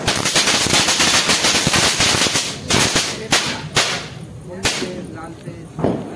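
Firecrackers burst at a Kali Puja temple, a dense rapid crackling string of close loud pops thinning into scattered single sharp bangs, with voices faintly underneath.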